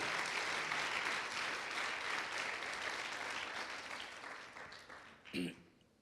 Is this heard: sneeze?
no